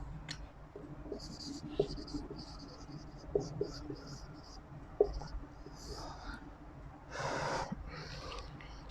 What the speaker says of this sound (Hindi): तो स्टूडेंट्स, कुछ मैं एग्जांपल्स आपके सामने लिख रहा हूँ।